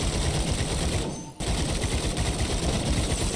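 Sustained, dense gunfire from the anime-styled co-op roguelite shooter Atomic Picnic, loud and continuous with a brief break near the middle before the shooting resumes.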